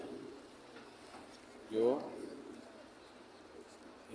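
Pigeons near the Prophet's Mosque in Medina give a single soft, close coo midway, heard under a man's quiet speech and faint surrounding murmur.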